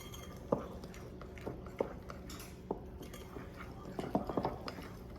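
A spoon stirs an egg mixture into a flour mixture for Texas sheet cake batter, giving soft wet scraping and occasional clinks against the bowl at an uneven pace, close up.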